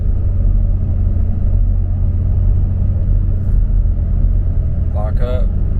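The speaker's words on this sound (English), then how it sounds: "So let's go for a test drive." A car on a test drive after a transmission rebuild gives a steady low engine and road rumble from inside the cabin, loud and continuous, with a brief voice near the end.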